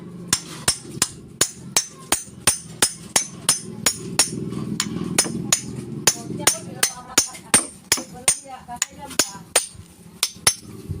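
A hammer strikes an electric fan shaft to drive it out, giving about thirty sharp, close metallic blows in a steady rhythm that quicken at times, with a faint murmur beneath.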